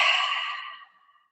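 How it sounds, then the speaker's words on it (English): Single deep cleansing breath taken during a mindfulness exercise, a soft airy exhale fading out over about a second, alone and close. "Another cleansing breath."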